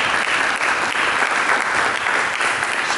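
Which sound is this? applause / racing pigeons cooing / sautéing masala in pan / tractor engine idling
applause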